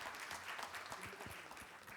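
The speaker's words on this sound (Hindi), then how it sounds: "एक बार जोरदार तालियों के साथ में उनका स्वागत किया" A faint, steady wash of audience applause greets a guest at an APEDA event, with many hands clapping together throughout the short stretch.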